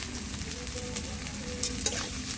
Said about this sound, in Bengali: পেঁয়াজটা খুব তাড়াতাড়ি ভাজা হয়ে যাবে, নরম হয়ে যাবে